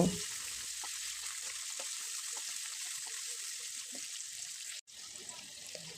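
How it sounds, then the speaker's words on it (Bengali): Small boneless chicken pieces frying in a pan over a medium gas flame, giving a steady, fairly loud hiss that carries through the whole stretch, with faint stirring clicks and a brief dip near the end. "ছোট ছোট টুকরো করা বোনলেস চিকেন নিয়েছি গ্যাসের আঁচ মিডিয়ামে রেখে চিকেনগুলো ভালোভাবে ভেজে নেব"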